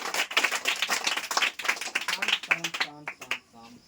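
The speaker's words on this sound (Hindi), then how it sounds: "तो मुंह क्या देखते हो, बजाओ ताली।" Village children clap in a burst of quick, sharp handclaps that thin out toward the end, and a voice talks over the last part.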